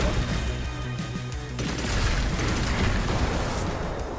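Heavy mortar explosions in the co-op game Magicka's Vietnam DLC boom and roar continuously, loud and close, with low rumbling blasts layered over one another and no talking.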